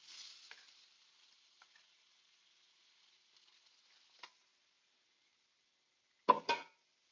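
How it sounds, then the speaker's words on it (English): A spoon gives a quick stir to a turkey stew sizzling in a pot. A soft frying hiss fades at the start, with light scrapes and a knock, then a brief louder clatter of stirring. No one talks. "So give this a quick stir so it doesn't burn"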